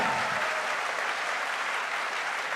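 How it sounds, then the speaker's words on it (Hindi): Dense, steady applause from an audience at a direct selling company's promotion ceremony, a continuous wash of many hands clapping throughout without pause. "एक बार जोरदार तालियां होनी चाहिए रूट प्योर के लिए"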